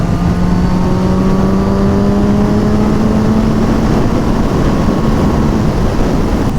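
A sport motorcycle accelerates hard on a race track, its engine note climbing steadily under heavy, continuous wind roar close to the rider.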